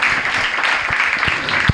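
Applause for students at a school prize announcement, a short steady wash of clapping from an assembled audience, fairly loud and continuous throughout with no talk over it.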